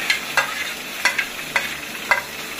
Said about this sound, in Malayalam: ഈ അരപ്പ് അങ്ങോട്ട് ഇട്ട് ഈ അരപ്പ് ഒന്ന് ജസ്റ്റ് ഒന്ന് ചൂടാക്കി എടുക്കണം